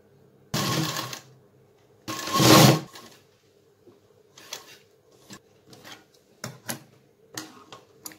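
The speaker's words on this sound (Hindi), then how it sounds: "यहाँ पर एक सिलाई इसके किनारे किनारे सिलाई कर देते हैं।" Sewing machine stitching along the edge of net fabric for a small summer dress, two louder whirring runs followed by shorter, softer bursts and clicks, close by with no talk.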